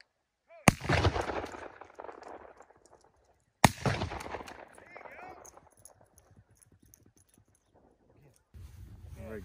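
Two loud, close shotgun blasts ring out during a duck hunt in Oregon, each with a sharp crack and echoing decay, separated by about three seconds, followed by rustling and quiet sounds.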